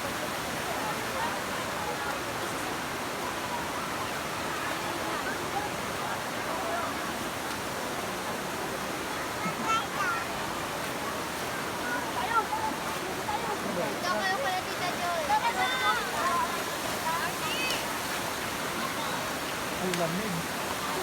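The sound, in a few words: waterfall rushing water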